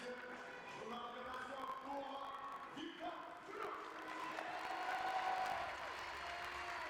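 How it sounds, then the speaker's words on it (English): Supporters at the Nimes archery tournament in France applaud and cheer after a compound men's under-21 gold final, a steady crowd wash rising toward the end, with a commentator speaking over it. "Well, what a cheer from the supporters here in France."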